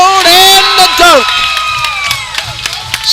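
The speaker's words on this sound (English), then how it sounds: "Seth Bialik ignites the crowd" A gym crowd at a high school varsity basketball game erupts into loud cheering and shouting after a dunk, with piercing whistles and yells that fade into scattered claps and chatter.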